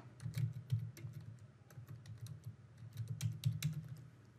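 Steady typing on a computer keyboard, close and clear, with quick bursts of key clicks pausing briefly midway before resuming.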